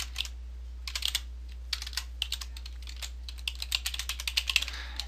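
Quick, light keystrokes tap on a computer keyboard in irregular bursts as an email address is entered, faint but crisp against a low steady hum.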